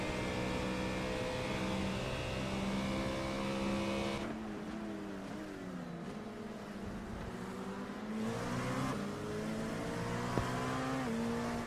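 GT3, GT4 and LMP2 race cars running in traffic at Road America in a racing game, engines whining and shifting through gears, pitch rising and falling in overlapping passes, fairly loud and continuous.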